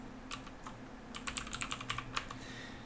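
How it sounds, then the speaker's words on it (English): A computer keyboard being typed on in a quick, uneven burst of about a dozen light key clicks, close but fairly quiet over a faint background hum. "if I could type for the life of me"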